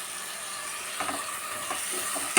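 Thinly sliced tomatoes, two medium ones, sautéing with onion in a pan for chicken curry give a soft steady hiss, with a few brief stirring scrapes near the end.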